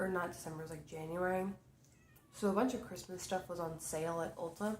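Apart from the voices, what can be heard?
cat meowing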